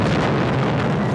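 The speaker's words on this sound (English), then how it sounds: "A grenade was thrown, and then there was a massive explosion." A grenade explosion, thrown during the Troubles in Northern Ireland, sounds as a loud continuous roaring blast filling the whole moment, broad and rumbling with no distinct onset or fade.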